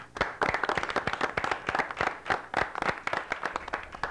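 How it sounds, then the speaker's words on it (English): A small audience at an academic quiz competition gives a round of applause, with close, distinct claps in an uneven but continuous rhythm. "Give yourselves a round of applause."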